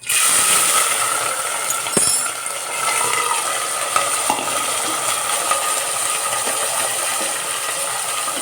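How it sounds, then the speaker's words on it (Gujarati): Cluster beans (guar) sizzling in hot oil tempered with ajwain and asafoetida, a dense continuous crackling hiss with a few brief clicks of utensils, close and steady. "થોડોક ગુવારને તેલમાં કકડવા દેવાનો"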